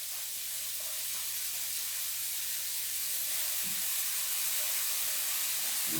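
Shallots and parsley sizzle in melted margarine in a pan for a winemaker's pie, a steady, even, moderately quiet frying hiss that runs unbroken throughout, with no one talking.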